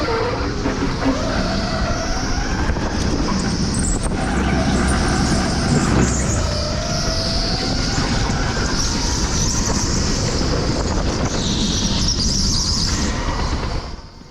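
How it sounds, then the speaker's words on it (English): Electric go-karts at a TeamSport Stoke indoor track give a steady, loud whine and hum with repeated high tyre squeals through corners, continuous for the whole stretch without speech. "just a little hum of an electric engine behind you and the screech of tyres going around corners"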